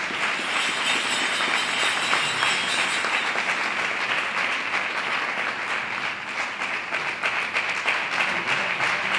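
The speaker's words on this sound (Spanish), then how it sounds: "Un fuerte aplauso para ella." Audience applause at a Three Kings and Guiding Star coronation ceremony in Maribáñez: dense, steady clapping from a sizable crowd that fills the whole stretch without letup and without talk over it.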